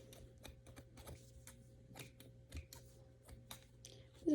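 A string of short crisp snips repeats at an uneven pace, close by over a low steady hum, with a brief louder sound at the very end.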